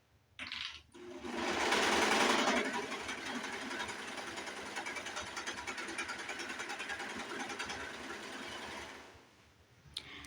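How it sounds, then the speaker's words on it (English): A serger machine stitches fabric pieces together for headwraps, whirring in one continuous fast hum at close range that starts after a brief click, runs for several seconds and then stops, with no talk. "I'm gonna start serging on my machine"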